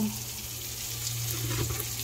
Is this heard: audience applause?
no